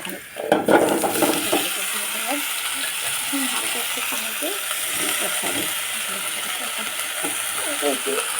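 Vegetables sauté in hot oil in a pan for a Bengali fish curry, giving a steady broadband sizzle throughout, with a few spoon scrapes and stirring knocks early on and faint background voice.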